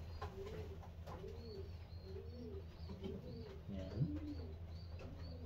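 A racing pigeon entered in a Florida pigeon derby coos in soft, low repeated rolling calls, close but faint over a steady low background hum, while someone briefly speaks.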